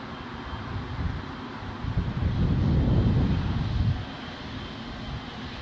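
An RAF Poseidon MRA1 maritime patrol jet flies touch-and-goes at Newcastle airport, its engine roar swelling into a loud, broad rumble as it passes, then easing back to a steady distant drone with wind noise.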